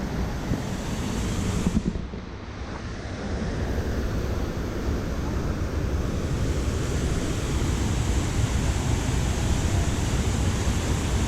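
A broad, steady roar of a waterfall swollen after a rainstorm fills the scene, loud and continuous, with gusts of wind buffeting the microphone.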